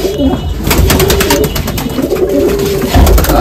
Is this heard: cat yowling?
no